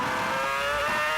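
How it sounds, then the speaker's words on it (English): A 2006 Ferrari Formula 1 V8 engine on Michael Schumacher's car screaming at high revs up a hill at Barcelona, a loud sustained whine rising steadily in pitch over about a second. "Ferrari engine working hard, screaming up the hill"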